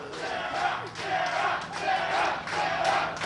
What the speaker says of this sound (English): It looks like they're cheering somebody named Sarah